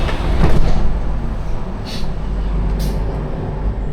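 An Istanbul metro train in motion, heard from inside the car as a steady loud low rumble and rolling hiss, with a couple of brief higher squeals or hisses partway through.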